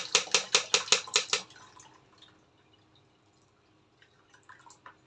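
Pickled turnip brine with beets pours through a strainer onto a plate in a quick run of splashy, dripping bursts, then trails off into faint scattered drips and light clinks in a quiet kitchen.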